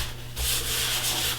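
Sandpaper rubs against a wooden beaded platter spinning on a running wood lathe, a steady close hiss with a low motor hum underneath and no talk.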